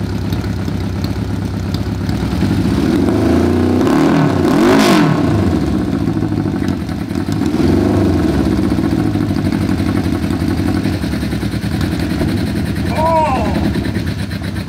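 A 550cc engine fitted in a Little Tikes toy car runs loud and close, droning steadily with a few swells of revving, while people talk and shout over it.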